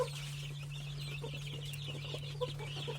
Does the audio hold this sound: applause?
no